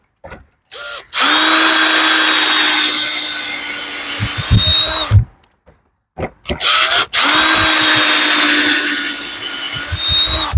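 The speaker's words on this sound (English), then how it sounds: "take my drill" A power drill whirs loudly in two long sustained bursts, separated by a short pause with a few brief clicks and rattles.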